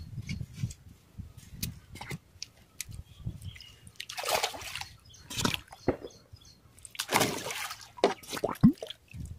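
Cow dung slurry being poured and splashed into an Azolla tank, irregular wet splashes and trickles in bursts of varying loudness with quiet gaps between.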